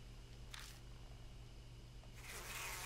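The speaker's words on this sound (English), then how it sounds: "Bees!" Bees buzz in the video game Death Mark, a faint, steady insect drone over a low hum, with a couple of brief rustling bursts, no talk.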